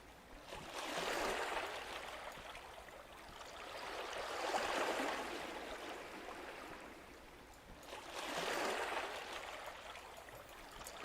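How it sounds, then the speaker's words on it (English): Flowing water from the video game Kubifactorium runs as a steady, soft rushing wash that swells and fades in slow waves, alone without voices. "The water is a calming sound."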